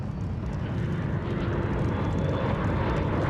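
A firefighting aircraft drones overhead during a wildfire, a steady, rumbling engine roar that holds at a constant level throughout, with no talk.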